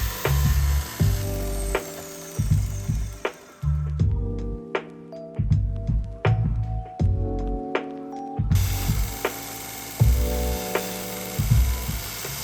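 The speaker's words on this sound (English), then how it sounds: "I end up using this belt sander for most of the shaping" A belt sander shapes a part for a restored hand plane, a loud steady whirring grind with sharp knocks, briefly dropping to a quieter hum before ramping back up.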